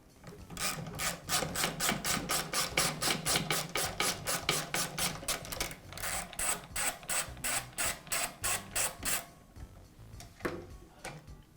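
A handle being unscrewed from a Makita power planer, a steady run of rapid ratcheting clicks, close and fairly loud, pausing briefly before a slower series of clicks and then quieter handling.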